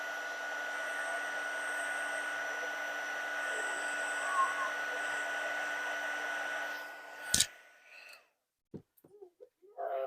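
A heat tool blows a continuous whooshing roar while warming a vintage Christmas card, then cuts off abruptly, leaving a few small clicks and handling noises.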